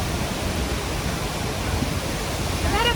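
La Fortuna waterfall in Costa Rica roars as a dense, steady broadband rush of falling water, loud and unbroken from start to finish, with a brief faint whine near the end.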